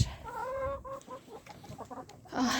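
Chickens at a dacha cluck softly and steadily while feeding, with close, irregular clucks and short calls through the whole stretch.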